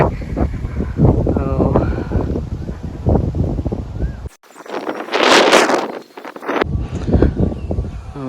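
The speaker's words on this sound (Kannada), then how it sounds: "ತಂಪಿನ ಗಾಳಿ ಬೀಸ್ತಾ ಇದೆ ಹಂಗೆ" People talk outdoors on Mandaragiri hill near Bengaluru, then a loud gust of cool wind buffets the microphone for a couple of seconds before voices return.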